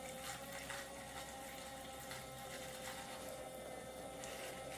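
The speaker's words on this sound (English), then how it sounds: "Turn the switch on, and you have running water." Water running steadily from a toy kitchen sink faucet, a continuous close trickling splash with a faint pump whir underneath, no talking over it.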